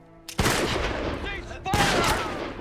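Gunfire during a World War II war film scene from The Pacific: two loud, close volleys of rapid automatic shots, each ringing out briefly before the next burst.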